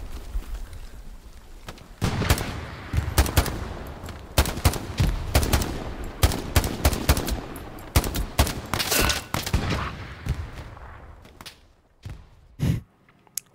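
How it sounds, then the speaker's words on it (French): Bursts of Thompson submachine gun fire in the World War II shooter Hell Let Loose, loud rapid volleys mixed with other gunfire that come in clusters and fade toward the end. "Y'a de la Thompson qui tire là"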